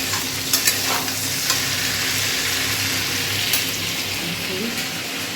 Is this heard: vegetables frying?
yes